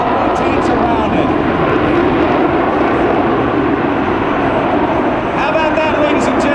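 A US Navy F/A-18F Super Hornet jet roars steadily at an airshow during a loading roll. The engine noise is loud and continuous, and a voice speaks faintly beneath it.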